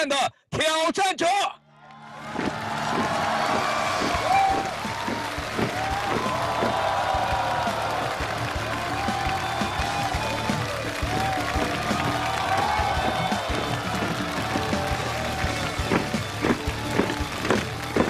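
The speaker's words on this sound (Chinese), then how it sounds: "所以我想让我们场内场外所有的观众一起用我们最热烈的欢呼和掌声请出我们今天成功挑战的挑战者。" After a few brief loud shouts, a large studio audience at a televised challenge show breaks into prolonged cheering and applause with whoops, a dense continuous crowd roar under music-like tones that holds steady to the end.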